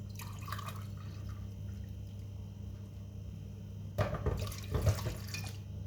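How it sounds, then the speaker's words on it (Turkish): Two glasses of warm water pour into a bowl for pizza dough over a low steady hum, a short splash early on and a louder, longer gurgling pour near the end. "İki su bardağı ılık suyumu da içerisine ilave ediyorum."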